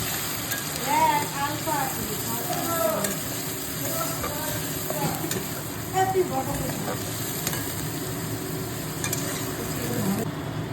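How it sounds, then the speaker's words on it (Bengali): Onions fry in oil in a home kitchen, a continuous close sizzle with frequent spatula stirring and scraping throughout, and faint voices in the background. "তো দেখো পেঁয়াজটা ভাজা ভাজা হয়ে গেছে।"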